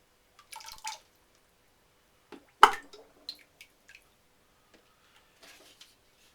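Small pottery kiln fillers double-dipped in a Chino glaze with wood ash drip and squish, giving scattered wet plops and splashes, one louder splat among faint sparse drips.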